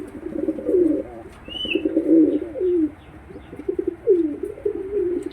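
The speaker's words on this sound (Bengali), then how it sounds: "তো তোমরা কীরকম দেখলে এই উত্তমদার পায়রাগুলো" Pigeons in a loft coo in low, rolling phrases that repeat through the clip, close and steady, with a brief higher chirp in the middle.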